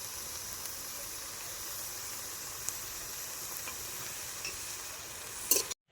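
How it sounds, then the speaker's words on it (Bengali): Coriander leaves frying with salt and turmeric in a pan, a steady soft sizzle and hiss with faint stirring scrapes, continuous and close, ending in a brief louder clatter. "দুই মিনিটের মতো ভেজে নেব বেশি ভাজলে সবুজ ভাবটা থাকবে না"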